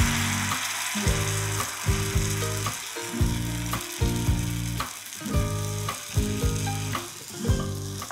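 Rice flour batter for spring onion ayate sizzles and crackles steadily on a hot pan, with repeated rhythmic scraping or spreading strokes over the constant frying hiss.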